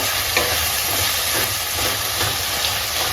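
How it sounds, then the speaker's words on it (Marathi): Tomatoes frying in a covered pan for dum aloo, stirred with a spoon, giving a steady loud sizzle with soft scraping strokes over it. "आपण हे परत असं हलवून बघूया"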